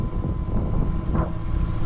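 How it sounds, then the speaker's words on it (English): Sailboat motoring dead into a headwind at about 1800 revs, a steady low engine drone mixed with rushing wind and water noise, continuous and moderately loud. "We're motoring 1800 revs, going quite well really."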